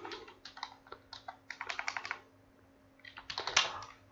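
Rapid bursts of typing on a computer keyboard, close and fairly quiet, with a pause in the middle before a second flurry of keystrokes.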